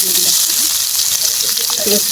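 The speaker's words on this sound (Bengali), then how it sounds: "এখানে দিয়ে দিলাম একটা তেজপাতা, দিয়ে দিলাম গরম মশলা, দিয়ে আমি এগুলো ভেজে নিব" Bay leaf and garam masala fry in hot oil in a wok for a broiler chicken curry, giving a loud, steady sizzle with light crackles throughout.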